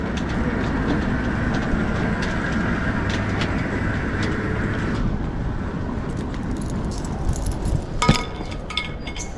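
A bunch of keys jingles and clinks briefly near the end, handed over at a workplace in Madrid, sitting on top of a steady rumbling background noise with no clear talking.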